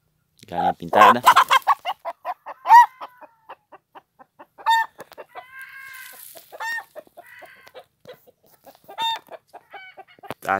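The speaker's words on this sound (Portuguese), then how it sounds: "Galinha pintada." A speckled broody hen clucks near her nest of eggs. Her calls come in short, uneven bursts with pauses between them, and some drawn-out notes. A person's voice briefly overlaps at the start.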